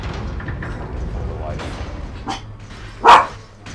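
A dog barks in the video game Resident Evil 4, one short loud yelp near the end following fainter game noise, with a player talking over the action.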